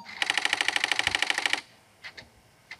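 An Apple II floppy disk drive loading a disk gives a rapid, evenly spaced run of loud mechanical clacks for about a second and a half, followed by a few isolated softer clicks.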